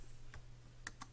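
A few sharp clicks of typing on a computer keyboard while a list is copied, sparse keystrokes over a steady low hum, close and faint.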